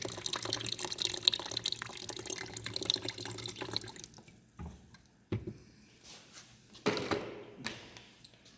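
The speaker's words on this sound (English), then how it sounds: "just open your ball valve here, and that'll drain your reservoir for you" Water drains from an Allied High Tech saw reservoir through an opened ball valve, a steady close trickle and splash that tapers into scattered drips and gurgles.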